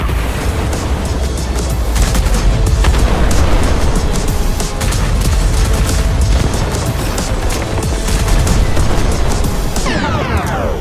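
Self-propelled artillery fires in the World of Tanks video game, a dense, continuous loud rumble of booms and blasts throughout, ending with a falling whine.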